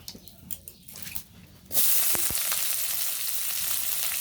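Black cumin seeds hit hot oil in a pan while cooking dumba, breaking into a loud, steady hiss after a quieter stretch of faint clatter, the sizzle holding strong and close to the end with a few light clicks.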